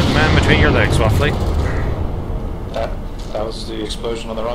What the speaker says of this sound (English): That was the explosion on the wrong side.